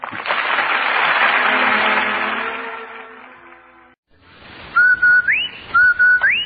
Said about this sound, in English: That whistle. That's the Rinso White whistle.